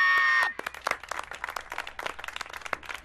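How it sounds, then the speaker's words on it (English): A small audience claps in a cartoon, a scattered patter of hand claps following a bright sustained tone that cuts off abruptly, moderately close and without talk. "let's give a big round of applause"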